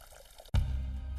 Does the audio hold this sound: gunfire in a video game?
no